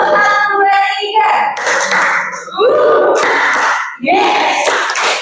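A junior high class claps out a counted three-beat pattern, bursts of hand claps falling between loud chanting children's voices in a lively classroom.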